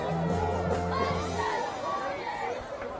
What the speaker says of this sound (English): their crowd on their feet here, showing some support for these Lee Scott players.